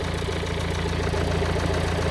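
A Ford Transit Mk7 van engine idles steadily after running for several minutes, a close, even low drone with a faint regular knock and no talk.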